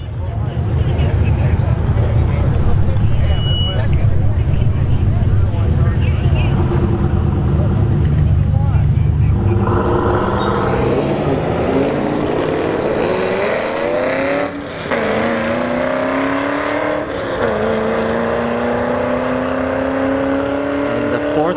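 A Camaro drag racing down the strip at ShowTime Dragstrip during a test-and-tune session, its engine roaring loudly and rising through the gears after a rumbling launch, while an announcer talks over it.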